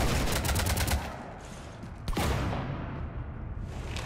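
Rapid gunfire in the Mass Effect 3 video game during a fight in the Normandy dry dock on the Citadel, dense bursts of shots at the start, a brief lull, then another loud burst and sustained firing.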